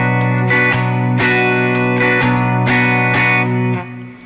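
Guitar strums the verse rhythm of a song: steady chords in a syncopated down-up pattern, close and full, playing alone before fading near the end.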